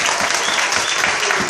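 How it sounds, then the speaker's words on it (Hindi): A church congregation claps loudly and steadily in sustained applause, dense and close throughout the short stretch. "एक अच्छी ताली जोर से यीशु के लिए,"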